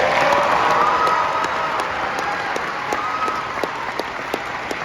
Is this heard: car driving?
no